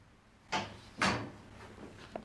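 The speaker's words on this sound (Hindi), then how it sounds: "मैंने दरवाजे की आवाज़ सुनी" A door swings and shuts indoors in two soft, dull thuds about half a second apart, fairly quiet, followed by a faint small click in an otherwise hushed room.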